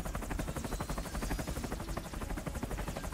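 A helicopter in the game From Russia with Love gives a loud, continuous rapid rotor chop that stays steady throughout, with no voices over it.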